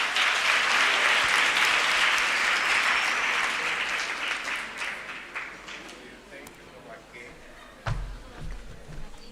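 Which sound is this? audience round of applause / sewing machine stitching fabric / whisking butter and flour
audience round of applause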